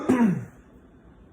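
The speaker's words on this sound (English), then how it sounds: "Now I have to really gotta clear my throat in order to clear my throat." A single short, harsh throat clearing, close and fairly loud, dying away quickly into near silence.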